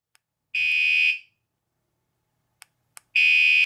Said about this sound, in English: you can push the locate button and create these sounds, which should make a thief run away.